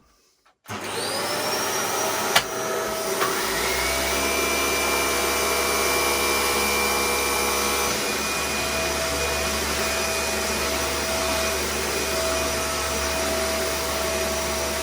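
A Dyson Big Ball Cinetic upright vacuum cleaner switches on after a brush bar repair, whining up to a loud, steady motor roar with a high tonal whistle that holds without talk.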